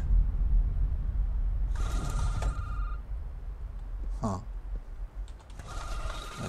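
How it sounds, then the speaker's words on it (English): A telephone ringing inside a horror video game, two bursts of electronic trilling tones separated by a pause, amid faint rustling and mechanical clicks in a quiet room. "My phone is ringing again."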